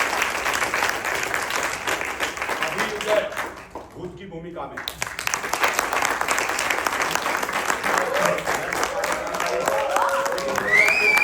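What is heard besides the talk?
audience applause at a play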